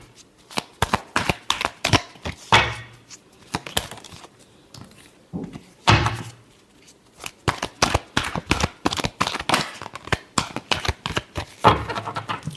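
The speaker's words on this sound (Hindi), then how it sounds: "Last shuffle." Tarot cards riffle-shuffled by hand in quick bursts of crisp flutters and taps, close and fairly loud, with short pauses between rounds and no talking.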